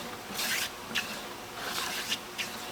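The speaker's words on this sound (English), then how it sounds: "it's so much easier to clamp this to the workbench and do this with a hand plane" Hand plane cutting a bevel on pine boards for a door, four rasping strokes with short pauses between them, close but fairly quiet.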